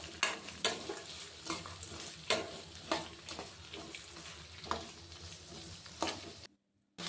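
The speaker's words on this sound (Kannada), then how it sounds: "ಇದೆಲ್ಲ ಫ್ರೈ ಆಗ್ತಿದ್ದಂಗೆ ನಾನು ಈರುಳ್ಳಿ ಹಾಕ್ಕೊಳ್ತೀನಿ. ಈಗ ಈರುಳ್ಳಿನ ಸಣ್ಣದಾಗಿ ಹೆಚ್ಕೊಂಡು ಹಾಕ್ಕೋಬೇಕು." Finely chopped onions frying in hot oil for chitranna rice, with a steady close sizzle and regular scraping stirs of a spoon in the pan, no speech, ending in sudden silence.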